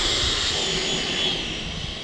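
A battery-powered model airplane taxis out with its electric motor running, a close, steady high-pitched whine over low rumbling, holding fairly level and easing slightly toward the end, with no voices.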